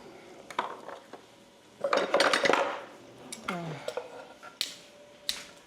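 Onions tipped into a pot of hot vegetable oil for canned beef stew, with metal clinks from a utensil against the pot and a brief sizzle in between, all close by and with no talk.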